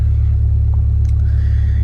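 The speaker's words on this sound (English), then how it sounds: "The car's been running for a good bit" A 1991 Toyota Corolla DX idling steadily up close, its loud, even low-pitched engine hum and fine rhythmic pulsing continuing without a break, with a faint thin whine rising softly in the background.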